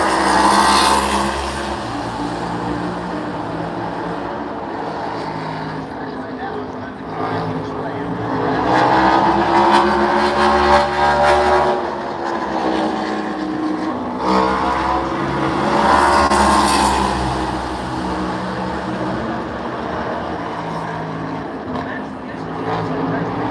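A NASCAR Cup race car screams around Bristol Motor Speedway on a night qualifying lap, its engine note rising and falling loudly as it sweeps through the banked turns, with a commentator talking over it.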